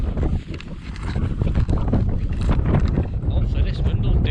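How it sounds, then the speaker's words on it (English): Strong wind on Edale moor at a wild camp, a continuous loud rushing buffet across the microphone with gusts that swell and fade. "Hopefully this wind will do one."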